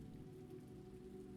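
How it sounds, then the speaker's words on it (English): Steady rain falls outside, a soft, even patter with a constant low wash and no breaks, faint and continuous throughout. "Outside, the rain continues, weaving a gentle percussive lullaby."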